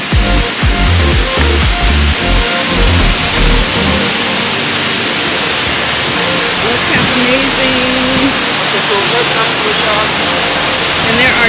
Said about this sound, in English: here is the waterfalls